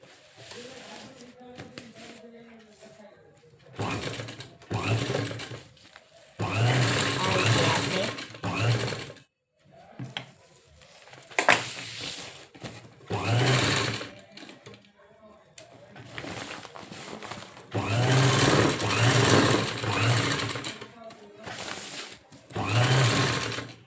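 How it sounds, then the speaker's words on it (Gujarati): A sewing machine stitches a cloth bag in several loud bursts of rapid whirring, separated by pauses in which a person talks quietly. "નિશાન કરીને પછી અહીંયા આપણે સિલાઈ મારી દઈશું"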